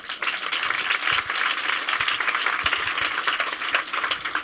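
Audience applause at a Debout Citoyennes 2023 event, a dense steady wash of many hands clapping throughout, sustained and fairly loud with no talk over it.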